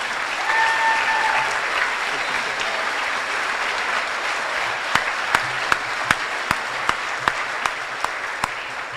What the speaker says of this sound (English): Please join me in applause for this commencement.